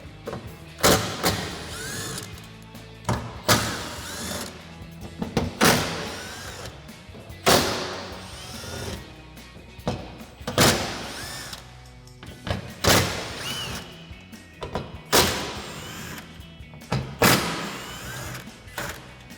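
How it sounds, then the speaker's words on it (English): T30 Torx screws come out of a Jeep Gladiator JT tailgate panel with a socket, making a series of sharp ratcheting clicks and thunks about every couple of seconds, close and fairly clear, with no talking. "We've got 8 T30 torque screws, so grab a T30 torque socket and we'll pull all these out."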